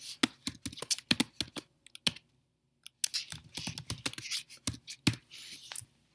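Keys clatter on a computer keyboard as code is typed, in quick close bursts of clicks, a short pause, then another run of rapid keystrokes, with no voices.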